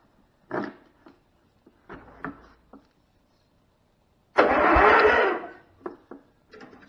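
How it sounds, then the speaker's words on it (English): A 35-year-old barn-find Cub Cadet garden tractor's engine cranks in one loud, rough burst of about a second, with short clanks and knocks of workshop handling before and after. "That cranked the engine."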